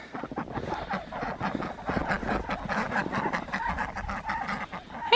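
Ducks stir in the morning on a snowy farm, giving a continuous chorus of overlapping nasal honks and quacks from a flock nearby, fairly loud throughout.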